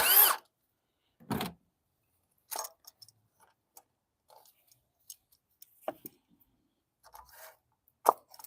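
Metal bolts and tools clatter during a wet timing belt change on a Ford Focus EcoBoost engine, with scattered sharp clinks and knocks, one bolt landing in a bucket, separated by silent gaps, nearby and fairly crisp.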